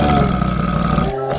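A ghostly black monkey in an animated horror story lets out a loud, sustained roar that fills the clip, with a slight drop near the end.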